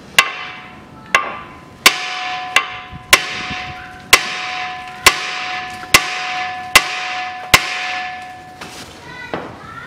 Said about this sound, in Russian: поэтому мы возьмем, отобьем молотком